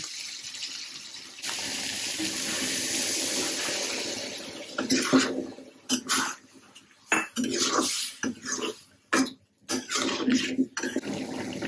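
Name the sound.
water poured into pan for cucumber prawn curry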